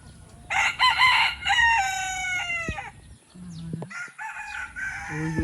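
A rooster lets out a long, strained crow close by, then other fowl cluck and call intermittently against a steady background hum.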